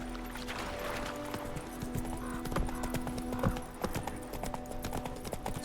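A horse galloping in The Witcher 3 video game, with steady, rapid clip-clop hoofbeats over a continuous rustle of game ambience at moderate loudness.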